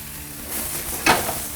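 Chicken frying in olive oil for chicken parm: a steady, close sizzle with a brief louder crackling flare about two-thirds through, no talking.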